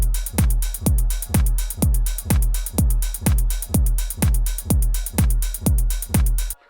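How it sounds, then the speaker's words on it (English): Basic four-on-the-floor electronic drum loop: a steady kick on every beat with closed hi-hat, a clap on the third beat and a hat on the fourth, looping evenly and loudly for several bars before stopping abruptly. "This is just basic, simple 4 to the floor kind of business"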